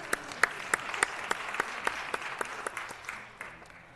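A round of applause at a city council meeting, moderately dense clapping with a few sharp individual claps standing out, fading toward the end without any talk over it.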